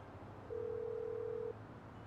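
A steady single-pitch phone dial tone from a call in the video game GTA 5, sounding for about a second on its own over a faint background hum.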